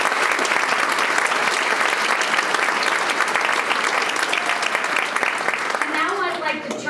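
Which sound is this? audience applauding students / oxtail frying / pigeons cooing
audience applauding students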